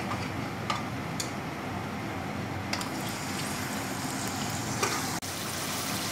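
Beef pieces fry in hot ghee in a pot. The sizzle is a steady, faint hiss, broken by a few soft ticks and pops and with no voices.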